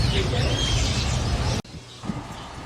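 Small birds flocking to peck grain from an open palm at a zoo in Madinah, their faint chirps and wing flutters mixed into busy outdoor noise before a sudden drop to quieter ambience.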